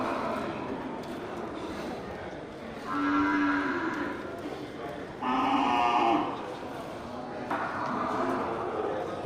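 Aceh water buffalo lowing at the Gelompang Payung livestock market, three drawn-out moos, each lasting a second or more, rising over a busy murmur of crowd noise and faint voices.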